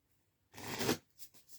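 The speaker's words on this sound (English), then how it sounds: "I'm going to shuffle how many times, Merlin? Twice." Oracle cards riffle through a shuffle in one dense burst of crisp papery flutter, followed by a few softer card taps and slides, close and alone without talk.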